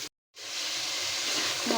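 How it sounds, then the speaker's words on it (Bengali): Spice paste hisses and sizzles in a pan just after water is poured in while cooking a Bengali fish and stem chorchori, a soft steady frying hiss after a brief silence. "আমি এখানে একটু পানি দিয়ে মশলাটা ভালো করে কষিয়ে নেব।"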